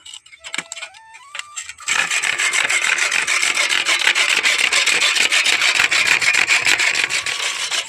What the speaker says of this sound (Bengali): সাইডে এইভাবে প্রদীপটা আমি ঘষে নেব